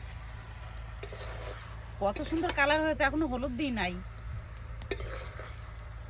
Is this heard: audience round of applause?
no